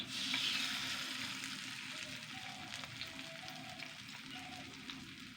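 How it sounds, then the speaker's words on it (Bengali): Brahmi leaf fritters frying in oil, a soft continuous bubbling hiss heard from a distance, fairly faint and even throughout, with no talking. "অল্প অল্প করে ভেজে ভেজে তুলতে হবে"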